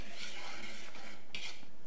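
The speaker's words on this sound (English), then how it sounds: "And then we will give this a light whisk." A whisk lightly stirs salt, baking powder and dry ingredients together in a bowl, a soft, brief scraping and rustling close by, quiet and continuous.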